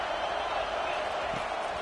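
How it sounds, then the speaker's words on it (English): A football stadium crowd in a video game roars in a steady, dense wash of noise that fills the whole short stretch without letting up. "listen to the roar of this crowd"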